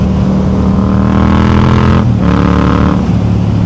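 A 2022 Yamaha MT-07 LAMS motorcycle engine drones loudly and steadily, with a brief dip as the rider shifts gears manually before the engine note picks back up.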